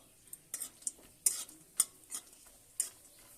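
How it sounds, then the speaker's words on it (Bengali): Bori lentil dumplings fry in hot oil in a kadai, with a quiet sizzle under a series of sharp spoon scrapes and clinks at irregular intervals, close up, with no talk. "বড়িটাকে ভালো করে ভেজে নেব।"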